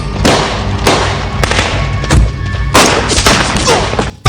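Bursts of gunfire from an action movie dubbed in Kinyarwanda, loud repeated shots at irregular intervals with a heavier volley near the end, over a dense, busy soundtrack.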